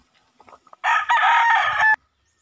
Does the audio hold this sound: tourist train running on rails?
no